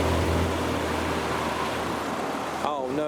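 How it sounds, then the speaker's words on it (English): Traffic near a classic car show with a Lamborghini Huracan Performante Spider, an Aventador S and a McLaren 720S, giving a loud, steady engine and road roar, with a brief voice near the end. "We've got a Huracan Performante Spider at the lights ready to come in as the Aventador S is departing with the 720S."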